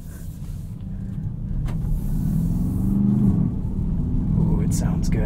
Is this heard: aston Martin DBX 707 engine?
yes